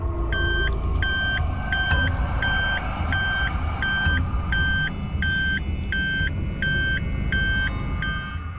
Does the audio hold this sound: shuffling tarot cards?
no